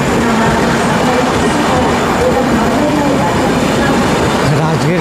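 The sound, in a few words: Buddha Purnima Express train passing alongside, Rajgir to Banaras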